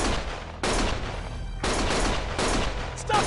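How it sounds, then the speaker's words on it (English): Bursts of loud gunfire in the video game Lost Judgment, three dense volleys of rapid shots in quick succession, close and harsh, with no voices over them. "Stop shooting!"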